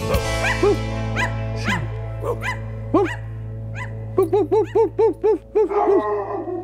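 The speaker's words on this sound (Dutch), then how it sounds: "ik hoor nog een hond blaffen" A dog barks in short repeated bursts during a lively Dutch children's sing-along. The barks are mixed in among a voice singing a steady, bouncing chant over a sustained low tone.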